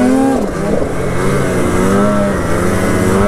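A motorcycle engine climbs a hill under steady throttle, its loud continuous drone rising and falling in pitch with harmonic whine, close up and without talk.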